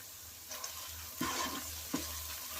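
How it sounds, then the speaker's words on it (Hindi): Onions and tomatoes cook in a pan for a salmon fish curry, giving a quiet, steady sizzling hiss with two short scraping stirs partway through, heard close and without speech. "हमारे ओनियन और टमाटर बहुत अच्छी तरह से कुक हो रहे हैं"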